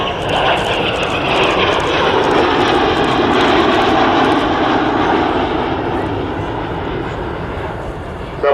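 Red Arrows swept-wing jets at the 2012 RAF Cosford Airshow roar past, a loud, sustained engine rush that holds for several seconds and then eases slightly, with no talk.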